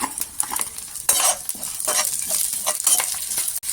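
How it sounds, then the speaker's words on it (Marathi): Onions and cumin fry in a pan on a village wood-fired stove for chicken curry, a spoon scraping and stirring in repeated strokes over a continuous close sizzle. "आपण कांदे चांगले फ्राय करून घेऊयात जिरं टाकूयात"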